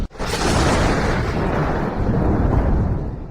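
A lightning strike unleashes a sudden loud crack that becomes a long, heavy rumbling roll of thunder, close and filling the scene, alone without speech.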